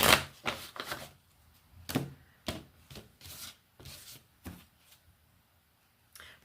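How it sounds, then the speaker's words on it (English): Tarot cards are shuffled and handled quietly, a series of about ten separate soft slaps and swishes spaced across the clip, with no one speaking. "You heard me shuffle the cards anyway."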